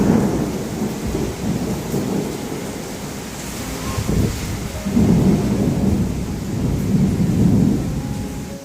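Heavy rain pours steadily outdoors during a thunderstorm with strong wind, with deep rolling thunder swelling and fading several times beneath the constant hiss of the downpour, loud and close.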